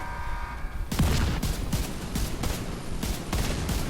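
Rapid bursts of gunfire from The Division 2 during the Foundry raid fight against a heavily armored enemy, loud repeated volleys in an irregular rhythm.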